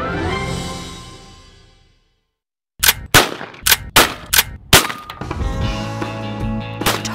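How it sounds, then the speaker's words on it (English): Several sharp gunshots crack in an outdoor target-shooting session in Arizona, about six reports in an uneven burst after a fading tone and a moment of silence, loud and close. "Target shooting."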